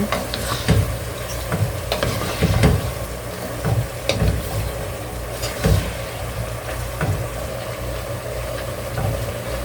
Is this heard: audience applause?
no